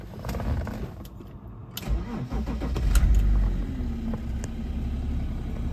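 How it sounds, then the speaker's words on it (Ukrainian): A BMW X3 E83 with a 3.0 litre diesel cranks briefly, catches and settles into a steady, low idle rumble close by. "Три літри дизель він і працює відповідно."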